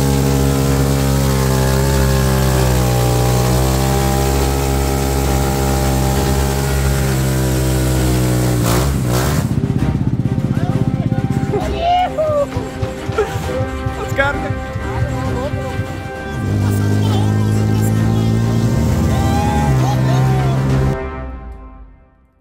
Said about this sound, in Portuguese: fiestinha com motor de Twister